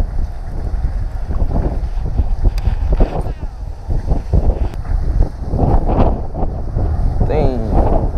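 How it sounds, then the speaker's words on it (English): Strong wind at an early-spring bass fishing pond in Iowa, roaring and buffeting straight into the microphone as steady, heavy wind noise with some gusts and faint sounds in the background. "If you guys cannot tell, that is super windy out."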